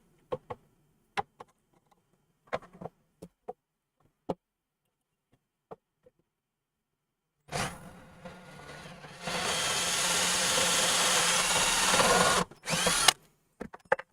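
A power drill drives a bolt into a DIY FRFR speaker cabinet built around a Celestion F12 X200, with a loud, close whine for several seconds after scattered light ticks and taps.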